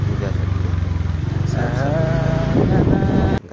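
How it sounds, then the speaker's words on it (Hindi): A two-wheeler motorcycle rides uphill toward Ghanteswari Temple near Chiplima, Sambalpur, Odisha, its steady engine drone loud and close throughout, with wind rumble and voices talking over it. "हम टू व्हीलर लेके जा रहे हैं"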